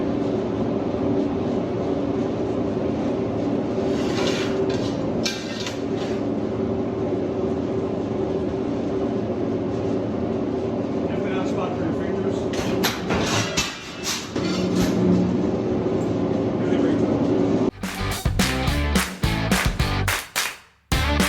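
The motor of a heavy sheet metal brake runs with a steady, loud mechanical drone that holds for a long stretch and shifts slightly as it spins up, followed near the end by a few sharp clanks.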